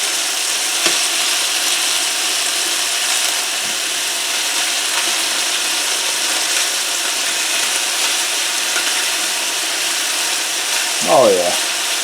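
Pork chops frying in a pan for Italian-style chops, a steady loud sizzle filling the whole stretch, with a brief clink near the end and no talk.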